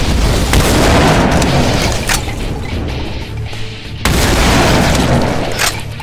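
Grenade explosions in Brutal Doom, Project Brutality, two loud booming blasts a few seconds apart, each with a long rumbling decay amid game noise.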